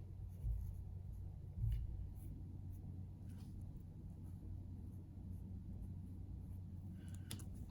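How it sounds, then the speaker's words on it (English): A marker colors in a small circle on paper during a children's candy corn drawing, giving soft scratchy strokes with two louder bumps near the start, faint and close, with no talking. "if you have marker, go ahead and color it in."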